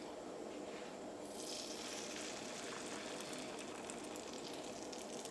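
A rosette cookie mould dipped in batter sizzles in hot oil for Kerala-style achappam, a soft steady frying crackle with a brighter bubbling burst after the first second.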